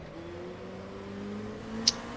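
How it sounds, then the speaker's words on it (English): An LMP race car engine in rFactor 2 at Spa-Francorchamps hums steadily, a continuous moderate drone with a brief sharp click near the end. "What is that LMP behind me?"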